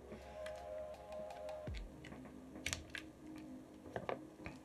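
Quiet, close typing on a mechanical keyboard fitted with Owl Lab tungsten switches, scattered clacky keystrokes in small clusters after a low hum cuts out, no speech.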